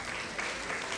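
Short burst of audience clapping at a public lecture welcoming guests, steady and moderately loud throughout with no pauses.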